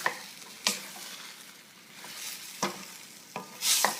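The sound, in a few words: stirring cut beef and broccoli in sauce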